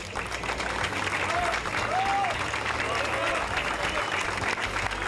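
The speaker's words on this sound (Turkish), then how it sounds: "büyük bir alkış rica ediyoruz" Dense, sustained applause from the audience at the Bosphorus Cup 2007 award ceremony, loud and even, with a few brief whistles rising above the clapping.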